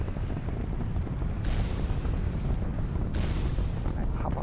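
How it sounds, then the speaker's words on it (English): An enemy turret in Mass Effect Legendary fires at the player, with heavy booming shots at a steady pace over a dense rumbling game backdrop. "This is the only turret that can fire at me at the moment."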